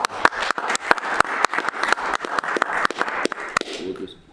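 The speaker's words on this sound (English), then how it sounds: "So Can we applaud?" Scattered hand clapping rises at a city council meeting, a modest round of distinct, fairly close claps that thins out near the end.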